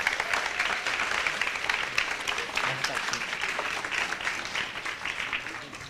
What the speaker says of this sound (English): So big round of applause to Rama.